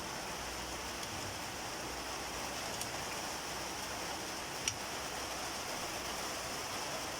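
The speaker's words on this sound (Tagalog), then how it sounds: "Kusog na ang ulan." Steady heavy rain hisses continuously, with a faint drip or tap now and then and no talking.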